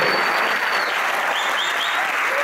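Audience applause at a Canadian Music Week 2018 appearance, a steady dense wash of clapping from a large crowd that stays loud and even throughout, with a few faint cheers and whistles on top.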